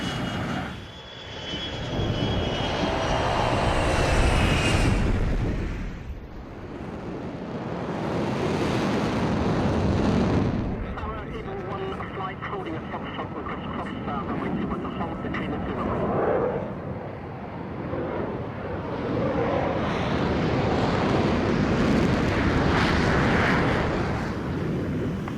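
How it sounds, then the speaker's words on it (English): A military jet roars on takeoff at Nellis, its engine noise loud and sustained with swelling surges, a radio voice faintly under the din. "Nellis Tower, you're cleared for takeoff."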